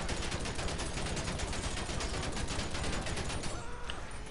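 Dense, rapid gunfire from a weapon in GTA 5 rattles on continuously, a loud fusillade of overlapping shots that fills the whole stretch and thins slightly at the end.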